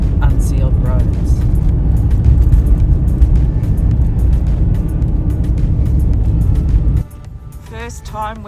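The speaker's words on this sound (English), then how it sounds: "First time we've seen another car the whole trip." Another car on the unsealed Gawler Ranges Road in the South Australian outback passes with a loud, rough gravel rumble that cuts off sharply near the end, followed by brief voices.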